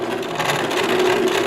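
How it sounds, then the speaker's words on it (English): A sewing machine stitching fabric runs in a steady rapid hum and needle patter, close and even throughout the short stretch, with no talk over it. "So as you're sewing, only just hold it and let it move by itself,"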